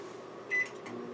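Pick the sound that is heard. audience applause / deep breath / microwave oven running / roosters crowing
microwave oven running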